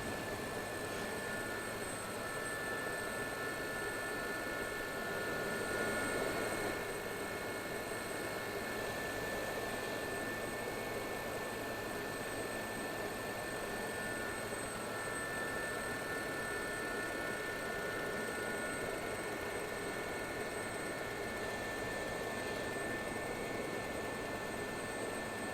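A Gazelle helicopter in the DCS flight simulator lifting off, its turbine whine and rotor roar holding as a loud, steady, unbroken drone for the whole stretch, with no voices.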